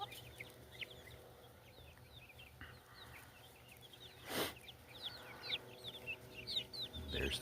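Backyard free-range hens and young birds clucking around a coop, with repeated soft clucks and calls scattered at a moderate distance over a quiet outdoor background, one brief louder burst midway.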